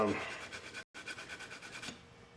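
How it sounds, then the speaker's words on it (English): Rapid back-and-forth rasping strokes of sandpaper on a flat backer against wood, a steady scratchy rhythm close by, with a brief pause partway through. "Using a flat backer for sanding will prevent rounding of sharp edges"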